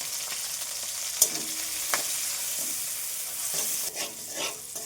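Bitter gourd leaves with nigella seeds, slit green chillies, salt and turmeric sizzle softly in a pan, with a few light stirring scrapes over a steady hiss, no voices.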